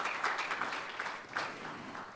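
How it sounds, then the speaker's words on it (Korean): An audience at a policy platform launch in Gwangju applauds for a guest, a soft, fairly distant patter of clapping that continues evenly. "강기적 전 수석님께 뜨거운 박수 부탁드립니다"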